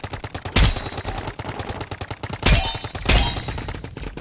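Rapid rifle gunfire in a Roblox game, bursts of sharp shots with loud louder blasts near the start, middle and end, close and dominant with no talk.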